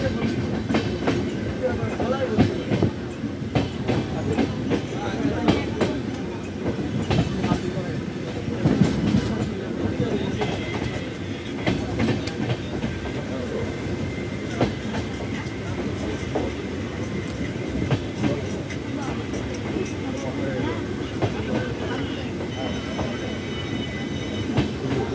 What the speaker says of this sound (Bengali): এবার আমাদের ট্রেন এসে পৌঁছালো বোলপুর শান্তিনিকেতন স্টেশনে